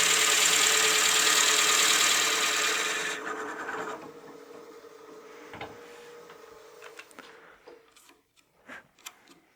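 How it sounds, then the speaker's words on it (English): A Forstner bit bores a 1 3/8 inch hole into a wooden pepper mill body on a lathe, giving a loud steady cutting whir for about three seconds that then winds down into quiet clicks and taps. "just slowly advance your bit into the material"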